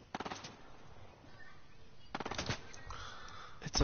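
Video game gunfire aimed at the player, two sharp bursts of rapid shots, the first near the start and a louder cluster midway, with a final crack at the end over a quieter background.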